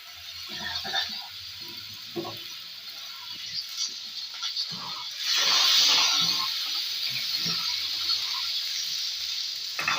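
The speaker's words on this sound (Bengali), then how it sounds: "মশলাটা ভালোভাবে ভাজতে হবে যেন কাঁচা গন্ধটা না থাকে" Spices frying in oil in a pan while being stirred, cooking alongside pumpkin bori and fish: a steady close sizzle with occasional scraping and clinks, swelling louder midway.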